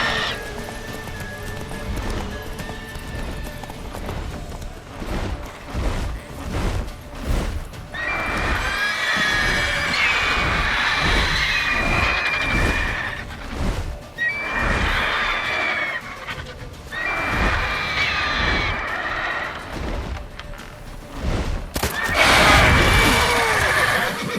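Roach, the horse in The Witcher 3: Wild Hunt, neighs and whinnies several times over a steady clip-clop of hooves. The whinnies rise and fall in repeated bursts, and a harsher sound near the end is close and loud.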